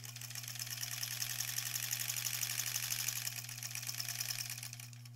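A sewing machine runs steadily, stitching together rows of a granny squares quilt, its motor humming with a rapid, even needle chatter that swells slightly in the middle, fairly quiet and close, with no talk.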